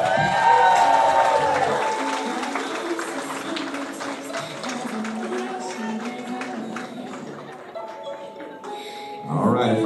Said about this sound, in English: How about a big round of applause for Christian Munguia and Giselle